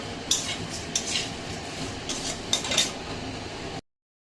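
Flattened rice (chira) dry-frying in a pan while a spatula stirs it, giving a few sharp metallic clinks and scrapes over a soft, steady sizzle, with no talking.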